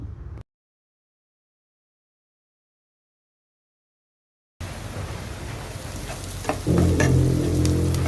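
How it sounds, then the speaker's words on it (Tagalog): A hotdog fries in oil in a pot, heard as a dense close sizzle that starts suddenly after a silent gap and swells louder toward the end, with small crackles. "Naglagay ako ng mantika at pagkatapos iprinito itong hotdog."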